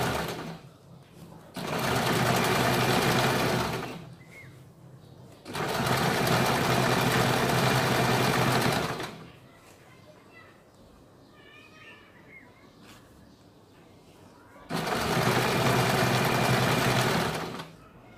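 A sewing machine runs in three long, loud bursts while double stitching a kurti, with brief quieter pauses between the runs and faint handling sounds in the gaps.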